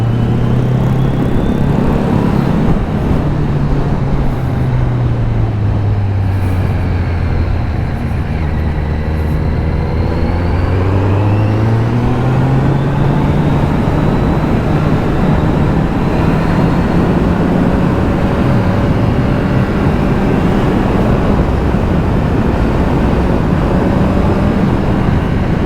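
Kawasaki Z900 motorcycle engine droning loudly while riding, with pitch rising and falling as the rider blips the throttle now and again, heavy wind rush throughout.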